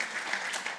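Audience applause at an inaugural address event, a steady dense clapping from a crowd throughout, fairly close and even in level, with no talk over it.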